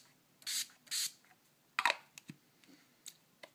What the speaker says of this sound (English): I next take my Urban Decay G-Slick setting spray and spray it onto my face in an X motion and then a T motion